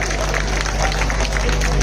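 Sustained loud applause and crowd noise fill a political rally hall in Bhiwandi as the audience welcomes Pawan Khera to the stage, a dense steady wash of clapping with no pauses.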